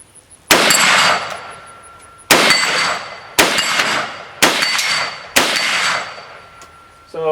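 Five loud metallic clangs from SKS rifle rounds striking a steel target at 50 yards, spaced roughly a second apart, each ringing and decaying before the next, with no talk.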